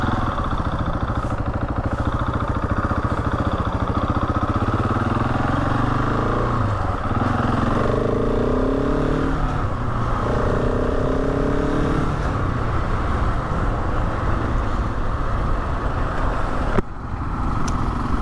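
A Husqvarna 701 Enduro single-cylinder motorcycle engine drones steadily and loudly on a winter mountain pass ride, with pitch rising and falling through gear changes and a brief dip near the end.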